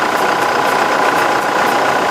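Diesel engine of a 2020 Toyota Fortuner idling: a steady, loud, close mechanical hum with an even texture throughout.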